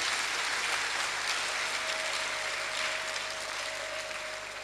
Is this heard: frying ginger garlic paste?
no